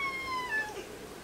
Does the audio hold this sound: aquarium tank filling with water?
no